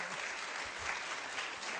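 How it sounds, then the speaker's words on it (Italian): Audience applauding at a fashion technology event, a brief, steady wash of many hands clapping, soft and somewhat distant, with no break. "chiedo un applauso per Marina"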